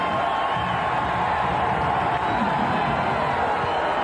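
Basketball arena crowd at an NBA playoff game between Phoenix and Portland, a continuous loud roar of cheering and shouting that fills the space without letup.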